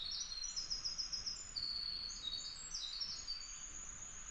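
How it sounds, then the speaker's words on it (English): High, rapid bird song trills and chirps repeat over steady faint background hiss, sounding somewhat distant and busy. "There's a lot of beautiful bird song, but that one is just like a maniac."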